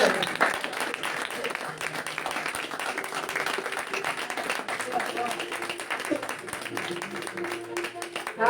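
A church congregation at a French-speaking worship service claps and cheers, dense rhythmic clapping with scattered voices and shouts mixed in, sustained at a moderate level throughout.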